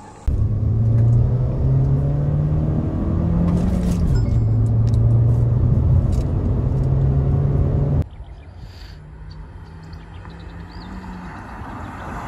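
An XUV700 AX7 SUV launches in a drag race against a 2022 Safari XZ Gold Plus. It gives a loud, steady engine roar with rising gear-by-gear pitch sweeps, then drops abruptly to a quieter hum partway through.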